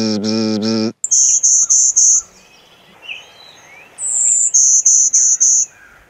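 A warbler sings in managed habitat, giving two close, loud series of rapid buzzy notes several seconds apart, separated by quieter ambient bird and insect sounds. Before the song, a voice briefly imitates it with a harmonic tone.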